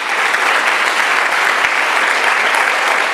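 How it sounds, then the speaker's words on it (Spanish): A church congregation bursts into loud, sustained applause, dense and steady throughout with no pauses, filling the room evenly from start to finish. "Dale un aplauso entonces al Rey."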